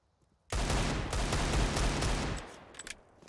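Rapid gunfire in Counter-Strike: Global Offensive during a competitive match with pistols and a scout rifle in play: a dense, loud burst of overlapping shots lasting about two seconds, then a few scattered faint pops.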